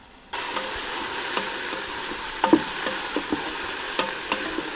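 Vegetables sizzling and cooking down in a Ninja Foodi pot for a chicken dhansak curry: a steady, close frying hiss with occasional stirring scrapes and small pops.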